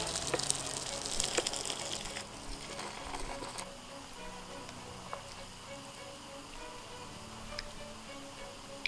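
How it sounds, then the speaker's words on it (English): Boiling hot water is poured onto hard slime, giving a gushing, hissing pour that is strongest for the first two seconds and then fades to faint crackling ticks. "Let's try adding hot water, boiling hot water to this and see if that will help."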